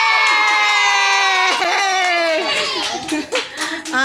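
Children cheering and clapping during a classroom-style game, high shrill voices yelling together in a sustained chorus, with scattered hand claps rising toward the end.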